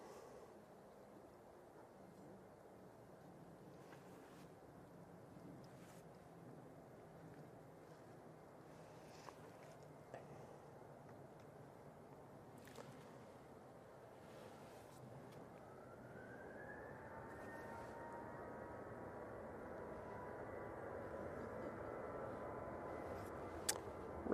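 An Airbus A319 airliner at Manchester Airport: a low, distant jet rumble swells gradually and a rising engine whine emerges midway, heard outdoors over faint wind and small scattered clicks.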